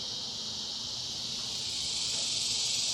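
Cicadas sing in a steady, high, hissing drone outdoors in West Texas, continuous and moderately loud throughout, slightly swelling toward the end with no voices.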